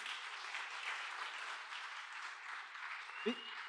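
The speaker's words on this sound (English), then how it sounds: "give her a big round of applause" Steady applause from a crowd fills the whole stretch, an even wash of many hands clapping without a break.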